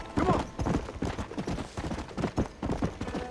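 Hooves of a war horse clip-clop in the Red Dead Redemption video game, a quick, loud rhythmic trotting close by, with a voice faintly underneath.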